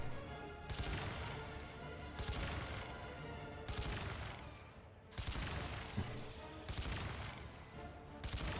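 Sustained, dense gunfire and explosions from Earth Defense Force 4.1, loud and continuous with repeated bursts and crashing impacts throughout.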